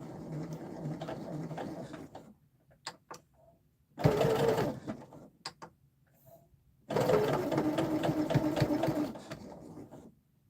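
A sewing machine stitches a dress in three loud runs, each lasting a couple of seconds, separated by quiet pauses with a few faint clicks.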